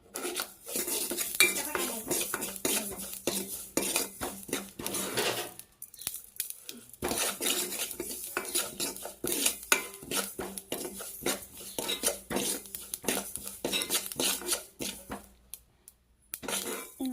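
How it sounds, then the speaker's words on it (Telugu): Sesame seeds roast in a pan over low heat for a tamarind chutney, a dense crackle and rattle with constant metallic scraping of a spoon stirring them, briefly pausing twice. "సిమ్లో పెట్టి వేయించుకోండి, తొందరగా అయిపోతాయంట."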